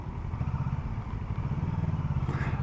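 Close, throbbing engine of a 2022 Kawasaki Versys 650 motorcycle in its restricted 48 PS version under throttle, a pulsing low rumble that holds steady and rises slightly near the end, with no talking.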